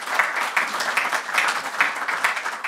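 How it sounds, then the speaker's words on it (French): Applause for Monsieur Perrin at a talk on summer comfort and water resources: a moderate audience claps steadily for a few seconds, no voices on top. "on peut l'applaudir"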